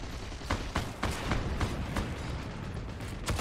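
Gunfire in the video game Heroes and Generals: loud, dense rattling bursts with repeated sharp shots over a constant roar of battle noise, all continuing with no break.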